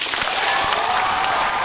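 An audience claps in unison after a letter is called out, a dense burst of applause from a crowd in a hall, loud and sustained with no voices over it.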